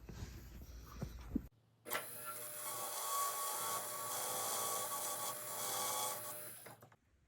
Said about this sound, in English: use a ball burr to burr those out